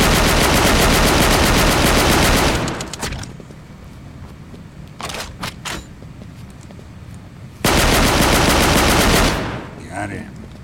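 Rapid automatic gunfire in the video game The Withering: a dense, loud burst of machine-gun fire for a couple of seconds, a lull with scattered shots and clicks, then another sustained burst.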